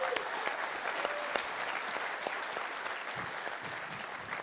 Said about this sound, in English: let's clap for Elliot.